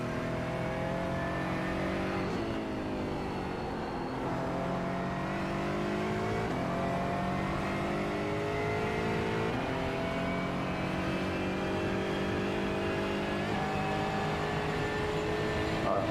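Several race car engines in iRacing roar steadily at close range, pitch climbing and dropping through gear shifts as a BMW approaches from behind.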